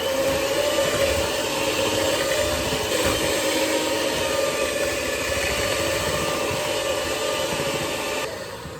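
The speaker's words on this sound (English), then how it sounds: "So we're gonna put in 1 egg for now." Egg being mixed into chocolate chip cookie dough, heard as a loud, steady motor whir running nonstop and easing slightly at the very end.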